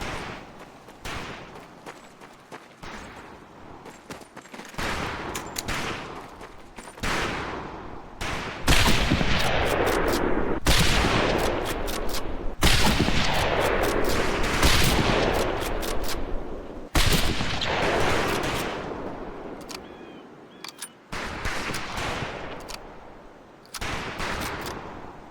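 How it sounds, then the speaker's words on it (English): Scoped rifle shots fired at a long-range target in the 2004 game Medal of Honor Pacific Assault, a series of loud sharp cracks at irregular intervals over a dense, reverberant background of game ambience. "we have 2 scoped rifles available for use today. See how many hits you can get on the long-range target."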